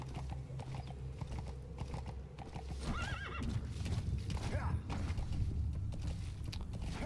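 Horse hooves clip-clop steadily in Metal Gear Solid V: The Phantom Pain, with a whinny partway through over a continuous game ambience of wind and low rumble.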